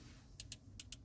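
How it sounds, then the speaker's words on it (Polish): Physical control knobs in a 2024 Honda HR-V e:HEV cabin give five short, crisp clicks in two quick groups, close up and fairly quiet against a soft background hum. "Pokrętła z takim klikiem fajnym."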